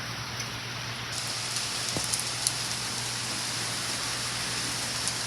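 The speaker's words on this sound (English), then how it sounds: "There's rain." Steady rain falls without a break, a dense, even hiss of drops that stays at the same level throughout, with no voices.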